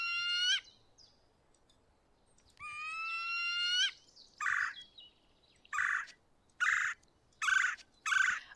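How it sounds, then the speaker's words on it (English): Bird calls from the board game Wingspan in its digital version: clear, high, tonal whistled phrases followed by a run of short, evenly spaced chirping bursts, clean and isolated with no talking. "Or I could just select and you could hear a little bird noise"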